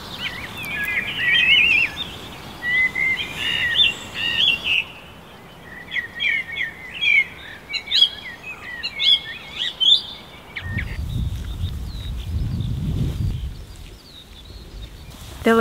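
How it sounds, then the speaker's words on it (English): Songbirds chirp and warble through most of the stretch near a narrowboat moored in the countryside, bright repeated phrases at moderate distance, with a low rumbling patch of wind or movement toward the end. "this bird song."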